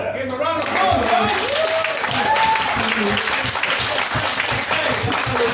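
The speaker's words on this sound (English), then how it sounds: "Give him a round of applause" Applause and cheering from a comedy club audience at a roast battle, a continuous full crowd clap running throughout, with some whoops and a voice rising briefly near the start.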